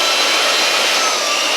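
A TC600A handheld engine blower running steadily at its fourth power level, giving a loud, even, breathy rush of air that is close and continuous with no talk.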